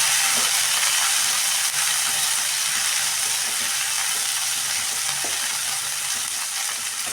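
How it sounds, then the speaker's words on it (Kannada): Green beans fry in a pan for a wedding-style palya, giving a steady loud hiss and sizzle with a few faint stirring clicks underneath. "ಇದರಲ್ಲಿ ನಾನು ಹಾಕಿಬಿಟ್ಟಿದಾಗ ನಾವು ಇದನ್ನು ಫ್ರೈ ಮಾಡೋಣ."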